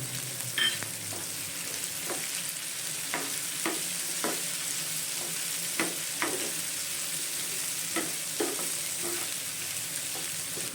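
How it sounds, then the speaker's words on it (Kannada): Curry leaves sizzle in hot oil while being stirred for lemon rice (chitranna), a steady close frying hiss broken by regular scraping clicks of the spoon, with no talking. "ಕರಿಬೇವು ಸೇರಿಸ್ತಾ ಇದ್ದೀನಿ."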